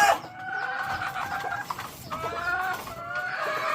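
A tall, high-blooded breeding hen at a game farm gives repeated nasal clucks and drawn-out cackling calls, close and clear with no talking over them.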